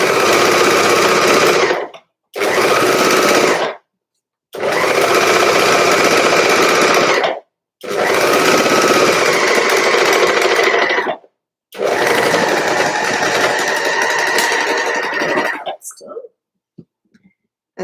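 A sewing machine top-stitches a sweater seam in five loud, steady whirring bursts separated by short pauses, then stops.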